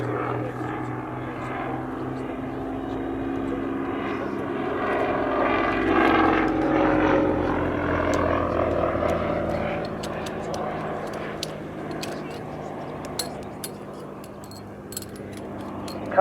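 Hawker Nimrod Mk.1 biplane at Duxford, its piston engine a steady, droning propeller rumble at moderate distance that swells and then eases, with a few faint clicks near the end.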